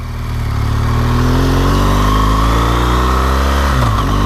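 A motorcycle ridden on winter roads roars steadily close by, the engine note climbing smoothly as it accelerates, then dropping briefly near the end as it shifts, with no voices.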